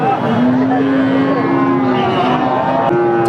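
A Sindhi heifer calf gives a long, drawn-out moo over a busy, noisy cattle market background, with a second shorter moo near the end.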